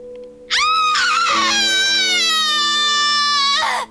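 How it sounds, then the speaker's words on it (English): A long, high, wavering scream in the horror game The Letter: it bursts in loud and sustained for about three seconds over a low droning tone, then cuts off sharply. "A scream ripples through the air."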